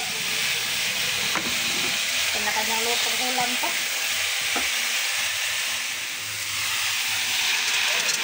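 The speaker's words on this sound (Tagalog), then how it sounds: "maggigisa naman ulit tayo para naman ito sa ating papaitan" Ingredients for papaitan sizzle and hiss steadily as they are sautéed in a pan, with some stirring, a few soft clinks and a faint low hum underneath.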